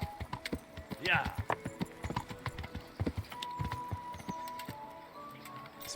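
Horse hooves clip-clop at a walk in the medieval video game Kingdom Come Deliverance, a steady run of close, distinct steps with a brief whinny early on, while a person talks over the top.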